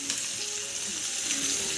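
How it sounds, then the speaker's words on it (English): Chopped onion hitting a hot frying pan gives a steady, close, bright sizzle with crackling, continuous and even throughout with no talking. "Nice sizzle going for us there."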